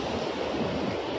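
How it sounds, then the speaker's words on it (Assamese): Sea waves at night on a Goa beach give a continuous, dense wash of surf, loud and steady with some wind rumble, and no one speaking. "ৰাতিৰ যিটো নেকি সাগৰৰ চাউণ্ড আপোনালোকে শুনিব পাইছে চাগে"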